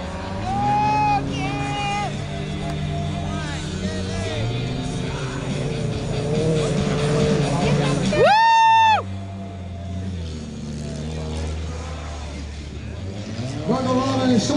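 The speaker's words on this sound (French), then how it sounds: "De la course d'auto-obstacle de Saint-Fer." Old junker cars race in a youth-class obstacle car race final at St-Ferdinand, Quebec, engines droning and revving under an excited announcer, with a horn-like blast and crowd noise.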